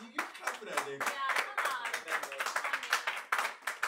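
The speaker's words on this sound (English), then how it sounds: "But I believe that you clap for that, Nick." A crowd claps steadily in a brisk, dense patter while voices call out over it, the clapping continuing throughout.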